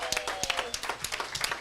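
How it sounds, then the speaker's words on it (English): An audience at a corporate stock-exchange programme ceremony gives a short burst of clapping. The sharp, uneven claps come from a modest group, with a faint voice underneath. "Let's clap for them."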